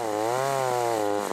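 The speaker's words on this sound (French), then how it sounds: "On s'active, tronçonneuse à la main," Chainsaw cutting Nordmann fir Christmas trees on a hillside plot near Coinches in the Vosges. Its engine drones loud and close in one steady, unbroken run.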